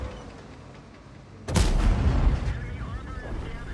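A single heavy tank gun blast in World of Tanks, a sudden loud boom that rings out and rumbles away over a few seconds after a quieter lead-in.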